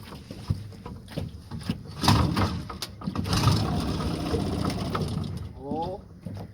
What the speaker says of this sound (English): I'm going to see if I can get this engine to pop off and see if we can go for a little ride